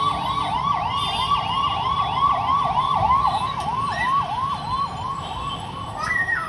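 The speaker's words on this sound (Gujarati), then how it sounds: "નીચે જો એમ્બ્યુલન્સ આવ્યું છે." An ambulance siren wails from the street below, its rising and falling two-tone pattern repeating steadily and loud over a constant rumble of road traffic.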